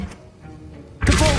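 A Hogwarts Legacy spell effect for the Accio summoning charm: after a quiet stretch, a sudden loud magical whoosh and thump bursts in and sustains to the end.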